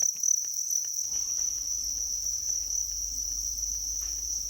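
Crickets in an indoor insect smart farm chirp in a steady, dense chorus of high, continuous trilling that fills the room. Faint patter and rustling sit beneath the chirping, and no one speaks.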